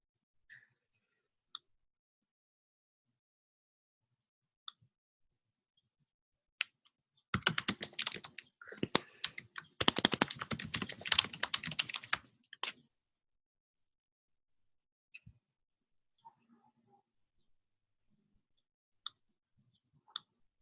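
Computer keyboard typing in a burst of rapid, dense key clicks lasting about five seconds, with a few isolated faint clicks scattered before and after in otherwise quiet surroundings.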